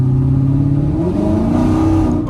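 A Camaro SS running a new tune accelerates hard, its V8 roaring loudly and steadily with the pitch climbing and wavering partway through the run, close and continuous with no talking.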